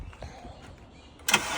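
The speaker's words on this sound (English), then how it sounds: "Started right up with the jump." A 2003 Honda Accord on a jump box at a police and towing auction lot: near-silence, then the engine abruptly cranks and catches with a loud burst that settles into a steady running roar.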